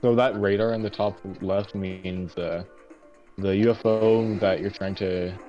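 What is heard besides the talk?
No everyday noises stand out.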